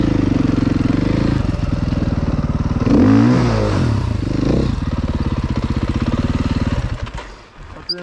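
A Yamaha YZ 125 two-stroke dirt bike, tested after an engine rebuild, idles loudly up close, then revs up and down in a swelling burst before settling back to a rapid, even putter that drops off at the end.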